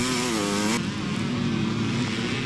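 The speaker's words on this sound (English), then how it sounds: "Number 6 again is Stuart Baird on the CZ Czechoslovakian 2-stroke machine" CZ Czechoslovakian two-stroke motorcycle racing through mud at a Scottish twinshock and evolution event in Glenochil, Alloa, its nearby engine revving high and buzzing, then dropping to a rough, steady drone.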